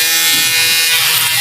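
A barber's electric shaver buzzes loudly and steadily at close range, an unbroken mechanical hum with no voices.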